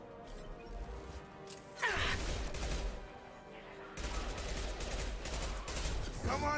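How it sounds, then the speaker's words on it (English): Mass Effect 2 combat with a grenade launcher firing, heavy booming blasts and crackling gunfire under a noisy battle din, with a loud burst near two seconds and another at four seconds, while a voice speaks briefly. "My grenade launcher."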